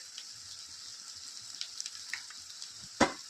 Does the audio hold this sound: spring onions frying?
yes